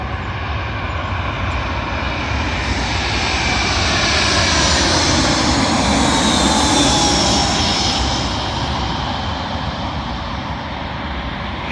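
A British Airways Airbus A320 arriving at London Heathrow runway 27L roars past as a loud, sustained jet rumble and whine that swells to a peak midway and then eases, with no talk.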